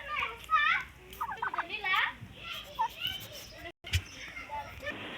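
A male turkey of over 10 kg gobbles repeatedly in rapid rattling bursts, close and fairly loud, with other turkeys and some children's voices mixed in around a farmyard.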